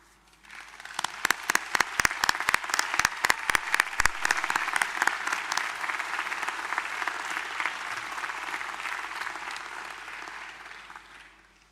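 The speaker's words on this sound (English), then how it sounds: "please join me in standing for a round of applause to acknowledge our family and friends here today" A graduation audience at James Cook University in Townsville gives a standing round of applause, a full crowd clapping steadily throughout, with a few sharp near claps standing out early before the sound tapers off at the end.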